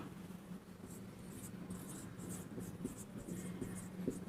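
Marker or chalk writing on a board during an English grammar lesson, a steady low scratching with short repeated stroke bursts, close and alone without talk.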